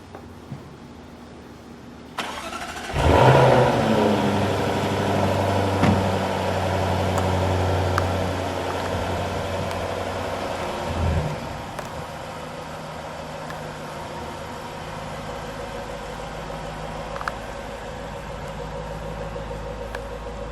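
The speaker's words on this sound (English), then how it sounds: "We'll listen to the exhaust." A 2017 Jaguar F-Type SVR Coupe engine starts up and settles into a steady, deep idle with a throaty exhaust rumble, heard up close with no talking.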